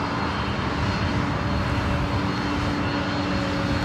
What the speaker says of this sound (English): So we wait for this Delta 767. It's taking off the JFK.